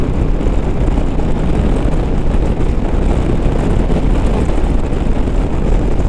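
Heavy, continuous wind roar buffeting the microphone while riding a Harley-Davidson Road Glide bagger on the highway, loud and unbroken throughout with no talk.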